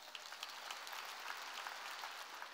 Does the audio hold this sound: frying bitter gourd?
no